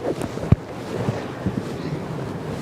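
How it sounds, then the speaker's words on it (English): Strong wind buffets the microphone beside open water near a large container ship, a steady rushing roar with a few sharp gust thumps and no voices. "Windy, wild day on the water"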